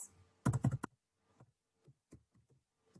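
Keys on a computer keyboard are typed to enter a Python print statement, with a quick close burst of clicks followed by a few sparse, softer taps.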